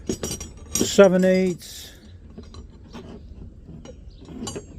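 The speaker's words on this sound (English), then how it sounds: "double box end Dunlap wrenches." Double box end Dunlap wrenches clink and rattle together as they are handled, with a few sharp metallic chinks near the start while someone speaks briefly over them.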